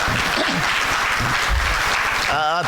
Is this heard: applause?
yes